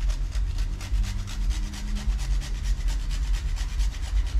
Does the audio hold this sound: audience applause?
no